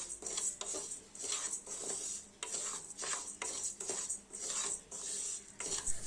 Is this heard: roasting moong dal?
yes